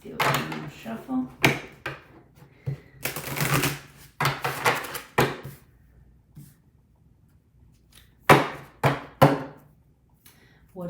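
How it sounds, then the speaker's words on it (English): A deck of reading cards being shuffled in bursts of crisp riffling and tapping, several short flurries separated by pauses, with a voice speaking between some of them. "And let's give it one more shuffle."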